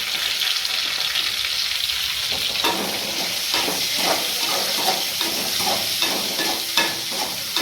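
Onions sizzle and hiss in a hot pan while cooking prawn biryani, with a few scraping stirs and clinks partway through, no voices.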